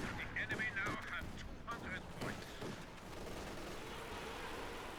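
Rocket artillery barrage in Company of Heroes 2: a dense rumble of overlapping blasts and fire that stays fairly quiet and continuous, with a voice talking over the first part.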